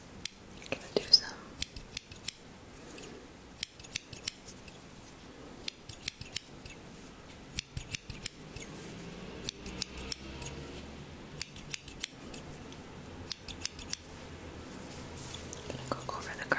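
Close, crisp snips of scissors in an ASMR Reiki energy-cutting session, sharp clicks coming in small irregular clusters over a soft, hushed background.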